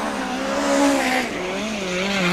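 A USAC midget race car on a qualifying lap at Ventura Raceway: a loud, steady high-pitched engine wail that rises and falls as the car works through the turns.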